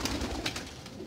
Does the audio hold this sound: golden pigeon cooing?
yes